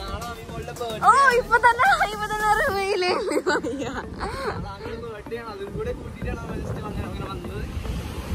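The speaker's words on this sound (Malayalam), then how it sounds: "നല്ല ഒരു അടിപൊളി കാറ്റൊക്കെ ഉണ്ട് കേട്ടോ ഇവിടെ" Strong wind buffets the microphone at a private beach resort in Varkala, a steady roar with surf in the background, running under loud close talk throughout.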